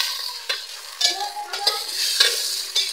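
Papaya mixture with onion being stirred in a cooking pan for ginisang papaya, a close, sizzling hiss with a utensil scraping and tapping the pan about every half second.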